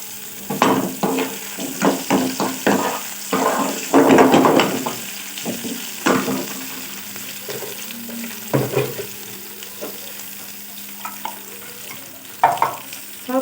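Chillies sizzle and fry in hot desi ghee for a village-style watermelon curry, with scraping stirs and bursts of crackle over a steady low sizzle, close up and with no talk.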